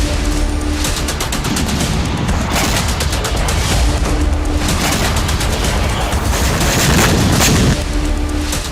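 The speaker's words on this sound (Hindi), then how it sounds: "ये ओरियोल ऑयल डिपो पर हमले का वीडियो है, जिसमें रात के अंधेरे में डिपो पर ड्रोन अटैक किया गया" Loud, continuous barrage of booming explosions and rapid gunfire-like bursts from a night drone attack on the Oryol oil depot and air defense fire, dense and overlapping throughout, with no voices.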